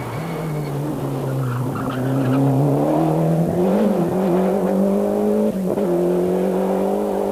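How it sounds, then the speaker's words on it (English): A Cosworth-engined Mark II Escort rally car roars past at the 1993 Tipperary Stonethrowers Rally, engine note rising and falling through gear changes, loud and close with no talk. "Cosworth engine Mark II Escort is flying."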